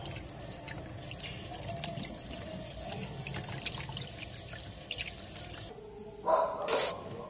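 Tap water runs steadily over steak fillets in a kitchen sink, a continuous splashing hiss that cuts off near the end, followed by a few brief clinks.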